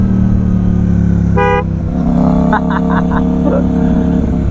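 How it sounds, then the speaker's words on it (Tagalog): A CFMoto 800MT touring motorcycle's horn honks close by, first one short blast, then a rapid string of four or five toots, over the steady rumble of the bike's engine. "Ganda ng busina."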